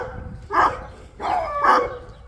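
Dogs at a neighbor's farm bark in two loud, close bursts, each a short cluster of yelps and bow-wows separated by a brief pause.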